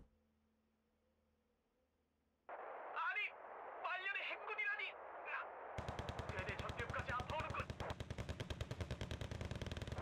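Rapid machine-gun fire in the video game Wargame: Red Dragon, starting after a quiet stretch with scattered radio-like bursts and voices, then a steady loud rattle of repeated shots to the end.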